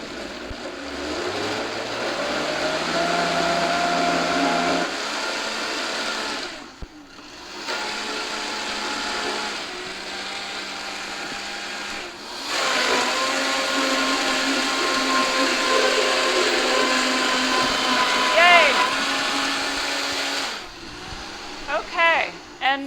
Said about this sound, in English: I have a Vitamix here, so we're going to blend it on medium-high